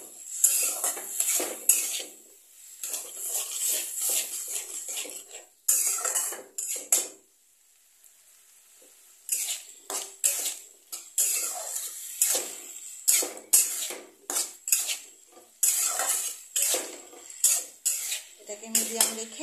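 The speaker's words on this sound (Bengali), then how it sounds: "অল্প জল দিয়ে এটাকে আবার ভালো করে কষাবো।" Food being stirred and sautéed in a pan with a little water, a spoon clattering and scraping against metal in irregular bursts with brief pauses, close and fairly quiet, with no one speaking.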